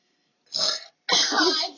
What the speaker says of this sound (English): That was water burp.